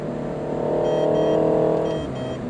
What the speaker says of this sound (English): I'm really impressed with the way this car accelerates